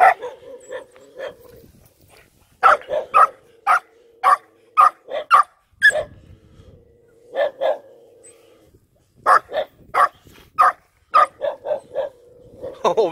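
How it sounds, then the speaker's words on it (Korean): Small puppies bark in sharp, high yips while being fed meat, coming in quick clusters of several barks separated by short pauses, loud and close. "엄청 잘 먹네. 새끼 강아지들이."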